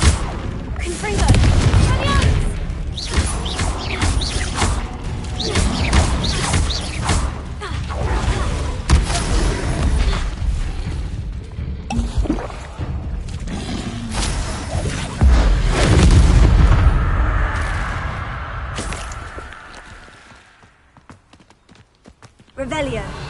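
Confringo blasting spells in the Hogwarts Legacy video game go off as a loud, dense run of booming explosions and thuds. Heavy impacts keep crowding in through most of the stretch before it thins out near the end.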